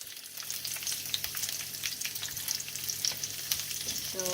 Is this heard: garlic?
yes